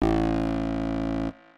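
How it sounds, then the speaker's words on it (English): A single soft acid 303-style synth note from Serum, a bright buzzy tone sustained evenly for just over a second and then stopping cleanly. "I will play a note softly on the keyboard,"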